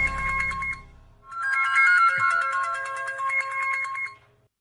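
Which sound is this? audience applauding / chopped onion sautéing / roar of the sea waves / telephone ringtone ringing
telephone ringtone ringing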